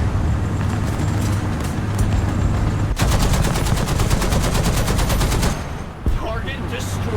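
Rapid automatic gunfire and cannon shots sound loud and continuous from tanks in the War Thunder combat game, with engine rumble underneath and a brief pause near the end.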